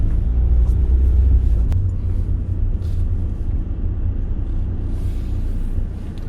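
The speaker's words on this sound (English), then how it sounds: "I'll just drive further up here," A car driving further up a road, heard from inside: loud, continuous low rumble of engine and tyres with a steady road-noise wash and no voices.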